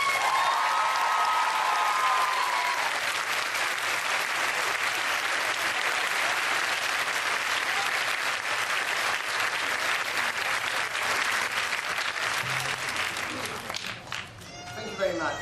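Audience applause following the introduction of author Terry Pratchett at a talk: dense, sustained clapping from a large crowd, steady and loud for about fourteen seconds before fading as it ends.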